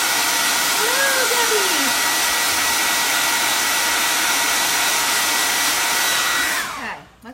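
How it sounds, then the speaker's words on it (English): A handheld hair dryer blows steadily on a shirt to dry chalk transfer ink, a loud continuous whooshing hiss held close for about seven seconds before it switches off and winds down. "Sorry, Debbie, I don't know if you heard me say hello over the hairdryer."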